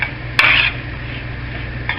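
A spoon clinks against a pot while dirty rice is stirred. One sharp metallic scrape stands out near the start, a fainter one follows near the end, and soft rustling fills the gap between them.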